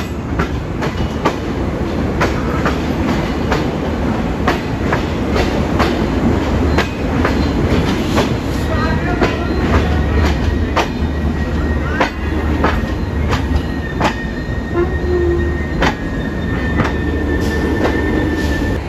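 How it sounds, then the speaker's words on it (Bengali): The Shimanto Express passenger train runs on rails at night after leaving Kotchandpur station, with a steady loud rumble throughout and repeated rhythmic clickety-clack wheel beats and faint squeals, heard from on board. "রাত 2:13 আমাদের ট্রেন ছেড়ে দিল কোট চাঁদপুর রেলওয়ে স্টেশন থেকে"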